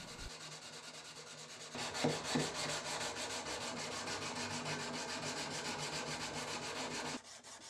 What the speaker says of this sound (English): Now I'm going to hand sand the knife to about 320 grit prior to heat treatment.